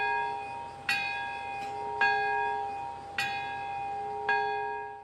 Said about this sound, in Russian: в Парке Мира ударили в колокол